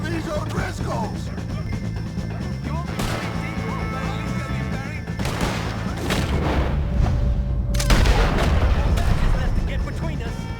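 Red Dead Redemption 2 shootout with O'Driscolls: repeated booming gunshots, loud and dense, mixed with shouting voices and a continuous game soundtrack.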